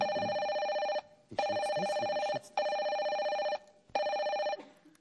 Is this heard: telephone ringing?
yes